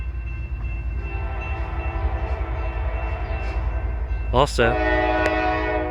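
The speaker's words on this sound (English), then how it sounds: "Q416, it's a horn battle." An EMD-led train, E780, rumbles steadily nearby at Brunswick, then loud multi-tone locomotive horns blare near the end in a horn battle with Q416, with a voice briefly heard.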